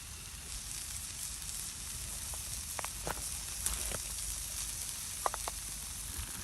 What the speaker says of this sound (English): I can hear it sizzling, so that's a good sign